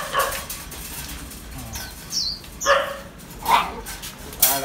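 Phu Quoc puppies yip and whimper in short, scattered high-pitched bursts at a pet adoption event, moderately near with background chatter and noise.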